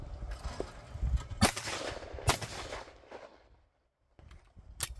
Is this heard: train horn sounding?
no